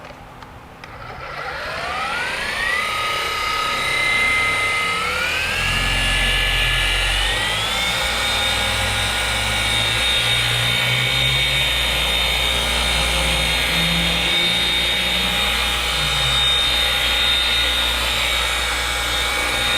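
A DeWalt DCM848 20V cordless random orbital polisher spins up with a rising whine, then runs loud and steady for the rest of the stretch. A low rumble of pad contact sits beneath the high motor tone.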